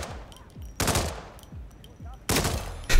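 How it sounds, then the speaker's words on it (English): Shots fired in the Hitman game, with several sharp reports, two dense bursts and a final crack spaced apart, loud and close with quieter game sounds between. "Don't mind the two shots that I missed."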